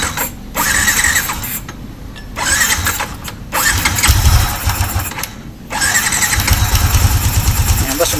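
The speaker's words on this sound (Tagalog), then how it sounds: "So ito na mga boss, nabuo na natin at papaandar natin" A rebuilt Yamaha Sniper 155 motorcycle engine is cranked with repeated starter bursts, the engine catching and running loud and close with uneven revving, while someone talks over it.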